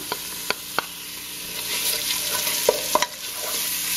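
Grated ginger hitting hot ghee in a pan for kitchari, giving a steady close sizzle with a few sharp crackles and spoon knocks scattered through the fry.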